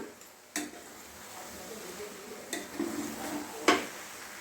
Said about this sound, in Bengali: একটু নেড়ে চেড়ে নিতে হবে।